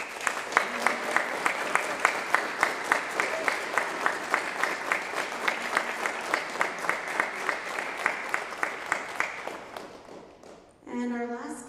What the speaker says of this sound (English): If we can just give a round of applause for Owen Dio.